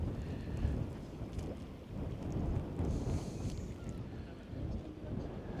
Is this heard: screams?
no